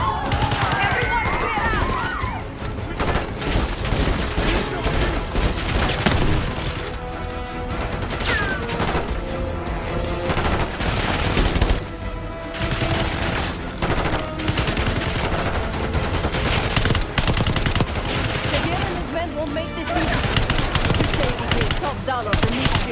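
Rapid automatic gunfire and crashing impacts from a Black Ops 6 campaign firefight in Call of Duty, dense and loud throughout, with overlapping shouting voices and music mixed in.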